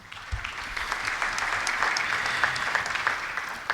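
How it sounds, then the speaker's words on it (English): Conference audience in Nairobi breaking into applause at a commemoration event, steady dense clapping at moderate volume lasting a few seconds, without speech. "Another round of applause to Balozi, please."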